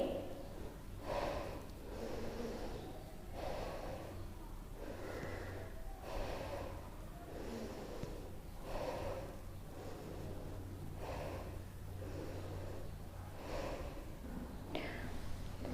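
Students in a classroom breathing in and out together, a slow repeating rhythm of soft, airy inhales and exhales spaced about every second or two, faint with a low room hum beneath.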